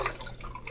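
Coconut water, a full 11.2-ounce container, pours into a blender for a superfood smoothie, a short steady splashing stream of liquid with no talk over it.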